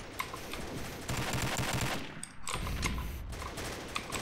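Gunfire in the video game Combat Arms crackles in dense automatic bursts, with a short lull partway through before the rapid shots resume, loud and close.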